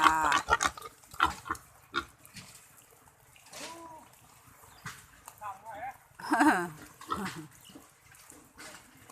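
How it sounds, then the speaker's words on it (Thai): Wild boars kept on a farm, grunting and snorting in scattered bursts at close range, mixed with intermittent talk from a woman nearby. "วันนี้เราจะมาดูหมูป่ากันนะคะ"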